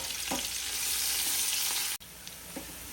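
Onions fry in oil left over from frying bitter gourds, a loud, constant hiss of sizzling close up, with a brief dropout and a few soft stirring taps.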